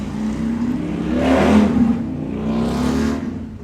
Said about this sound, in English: Excuse you and your damn motorcycle, sir.